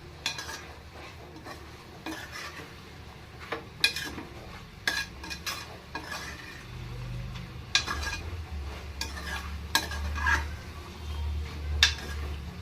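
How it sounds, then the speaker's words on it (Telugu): A utensil scrapes and clinks in a pan at intervals while a low sizzle of frying goat tripe (boti) rises in the background. "దీన్ని బాగా కలుపుకుందాం. కలిపి ఒక 5 నిమిషాలు ఇలా వేగనిద్దామండి"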